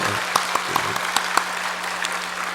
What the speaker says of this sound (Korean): 박수 한번 힘차게 한번 쳐.